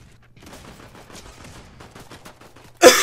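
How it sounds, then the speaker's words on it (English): Gunfire in Fortnite crackles as rapid, faint distant shots in a quick sequence, then a single loud, close blast right at the end. "Somebody shooting at me?"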